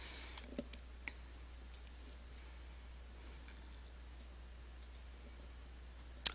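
Computer mouse button clicking during web browsing: a few faint, sparse, isolated clicks over a quiet hum, with a slightly louder pair near the end.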